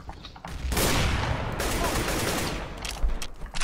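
Rapid spray fire from a gun in Counter-Strike: Global Offensive, a dense, continuous burst of close shots with a few sharper cracks toward the end.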